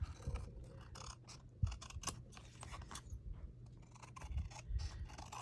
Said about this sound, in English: let me use my scissors for that